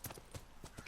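Horse hooves clip-clopping in The Last of Us, a few soft rhythmic beats at a steady trot, faint and close, with no talk over them.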